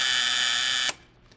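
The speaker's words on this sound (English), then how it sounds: "did you just want to see if the buzzer works?" Harsh, steady door buzzer blares loud and continuous for nearly a second, then cuts off sharply, leaving a quiet room tone with a faint soft tap afterward.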